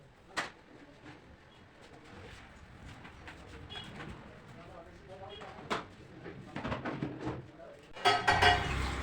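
Metal utensils and a heap of dirty dishes are handled for washing in a home kitchen. Soft clinks come and go, building into busier, louder clattering near the end, with faint birdsong in the background.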